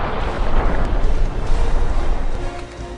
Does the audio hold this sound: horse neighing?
no